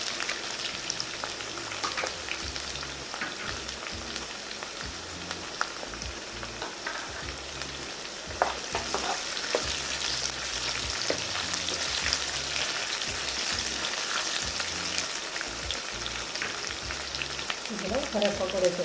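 Garlic and green chilies frying in oil in a pan for a tomato and gongura chutney, a steady crackling sizzle with faint stirring throughout, no talking.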